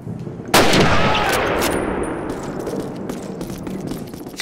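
Video game gunfire around a wounded soldier: one loud sharp blast opens, then a long rumbling echo follows with scattered clanging impacts and shots in the background.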